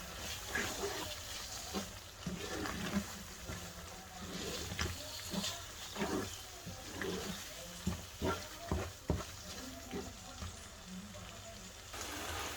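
Tuna pasta sauce being stirred in a pan, with soft irregular scraping and wet sloshing at a low level, and light sizzling underneath throughout.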